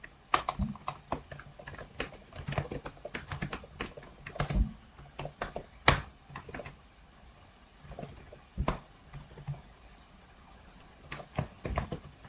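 Rapid clicking of computer keys in irregular bursts and pauses, close and fairly quiet, with no talking.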